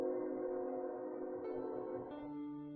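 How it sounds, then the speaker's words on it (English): A train passing outdoors gives a sustained tonal horn-like drone that shifts pitch partway through, faint and distant. "I'm gonna see if my microphone will pick up the train out there."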